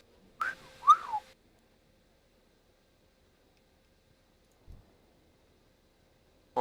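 A World of Warcraft character's whistle emote sounds once near the start as a brief, clear two-note whistle, followed by long near-silence with a faint click.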